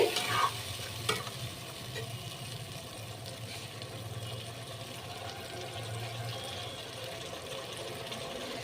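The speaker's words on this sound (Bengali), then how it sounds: "এবার মশলাটাকে আমি একটু ভাজা করে নেব কষিয়ে নেব ভালো করে ভালো করে কষাতে হবে" Spice paste for an egg curry fried and stirred in a pan, a steady close sizzle with a couple of scraping strokes near the start and no talking.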